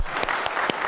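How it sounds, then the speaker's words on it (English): Audience applauding at a city council meeting, a steady wash of many hands clapping close and loud through the whole short burst, with no voices over it. "why don't we start with a round of applause for Robin"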